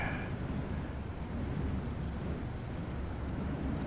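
A steady, unbroken engine drone and rumble from an aircraft taxiing off the runway after landing in Microsoft Flight Simulator 2020, on a Balkans bush trip, with no voices.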